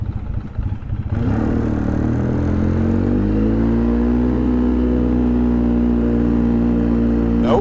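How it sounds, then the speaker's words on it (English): A cold Polaris Sportsman 700 ATV engine starts up and settles into a steady, loud idle with a low rumbling drone and slight clatter, close by with no talk. "Engine's still cold. Let's put her back in low."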